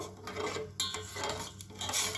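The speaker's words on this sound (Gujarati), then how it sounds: "ચમચીની મદદથી એને બરાબર હલાવી અને મિક્સ કરી દઈશું" A spoon stirs boiling water in a cooking pot over low heat, producing repeated metallic scraping and clinking against the pot in an uneven rhythm, close and clear with no talk.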